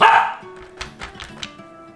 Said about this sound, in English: when he smells food, he's going to bark